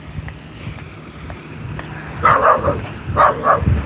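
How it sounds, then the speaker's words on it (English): A dog gives a few sharp barks in two short bursts near the end, after a stretch of quiet background noise. "Silly dog"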